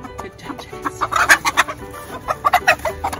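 A backyard chicken clucks loudly and close by in a quick series of short, choppy calls, with no voices over it.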